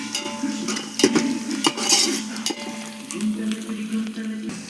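A spoon stirs food in a cooking pot during holiday home cooking. Scraping and light clinks run over a steady, close frying sizzle that never lets up.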